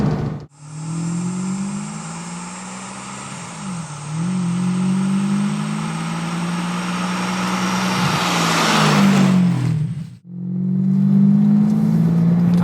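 A 1999 Ferrari 550 Maranello engine pulls hard in fourth gear, a loud close-up drone rising steadily in pitch, briefly dipping and climbing again, then a gap at a gear change before the roar resumes.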